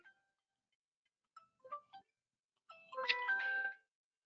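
A phone ringtone sounds in short electronic bursts, a few brief tones followed by a louder, longer melodic ring in an otherwise quiet room.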